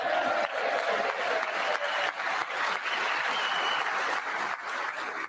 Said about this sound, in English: they're clapping for the most basic things